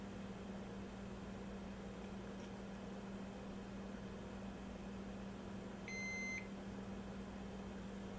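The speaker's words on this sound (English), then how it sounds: "Interesting, it just beeped again." Electronic beep from a computer board: one short, thin tone about half a second long, heard over a constant fan and electrical hum in a quiet room with no talking.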